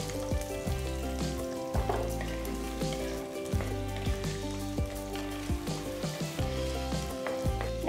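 Pearl onions or shallots sizzle in a pan with garlic and fenugreek seeds, a steady crackling hiss broken by repeated scraping stirs and light clinks of a utensil against the pan.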